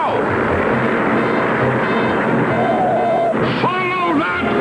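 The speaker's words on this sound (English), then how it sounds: "Follow that plane." A cartoon airplane roars loudly and steadily through the whole stretch, with a brief dip and a few whistling tonal sweeps near the end.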